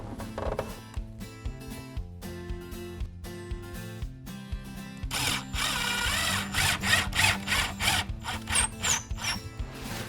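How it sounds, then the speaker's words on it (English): Cordless power drill driving a screw through a shower base profile and nailing lip into a wall during waterproof laminate panel installation, whirring in short ratcheting bursts, then a longer, louder continuous run, nearby, with no talking. "I'm going to put a second screw through the base profile now into the nailing lip, through the base profile into the wall."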